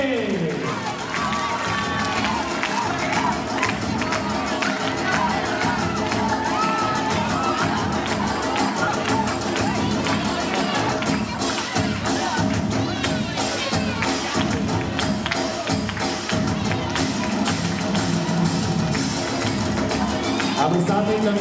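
An audience claps for Balvatika students at a school parents' meeting on Guru Purnima, a dense, continuous roar of clapping mixed with children's shouts, cheering and crowd voices throughout.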